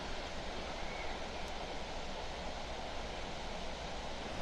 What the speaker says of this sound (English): it's about a 12-foot waterfall off really picturesque rocks over there